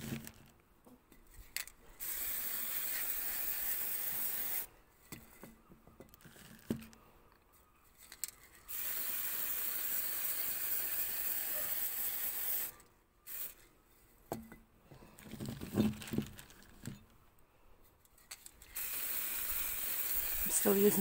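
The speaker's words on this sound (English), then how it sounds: "I'm going to spray a little bit of primer just to give it a key." An aerosol can of primer spraying in repeated bursts of steady hiss lasting a few seconds each, separated by short pauses, close and fairly loud.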